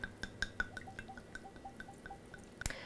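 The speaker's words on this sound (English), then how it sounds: "I'm going to start pouring that in." Brandy is poured over elderberries to make syrup, heard as a quick series of light drips and splashes, quiet and close, ending with a brief louder splash.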